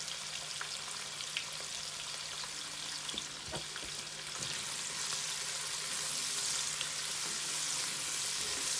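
Onions cooking down in a pan, with pepper being added, for sautéed cabbage with shrimp, chicken and beef sausage: a steady broadband sizzle throughout, growing slightly louder toward the end, with occasional faint clicks of a utensil.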